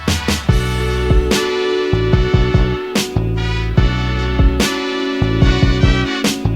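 The A section of a GarageBand remix of a podcast theme song, built from sliced samples played on a MIDI keyboard, with loud punchy drum hits and a steady sustained bass and chord bed looping in a rhythmic groove, with no talking.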